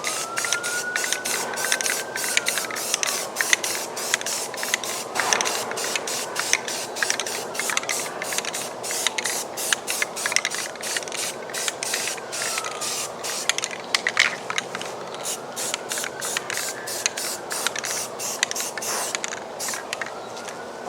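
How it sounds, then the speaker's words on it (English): Spray can laying primer onto an RC airliner model, a steady hissing spray in repeated short bursts with brief gaps, close and fairly loud, no voices. "when you're hand painting with a can, just make sure you keep the can moving, make sure you keep the nozzle moving"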